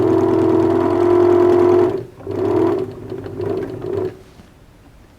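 Sewing machine running a small re-stitch along the top seam of a sand-filled sandbag, a steady mid-pitched motor drone for about two seconds, then two shorter bursts of stitching before it stops.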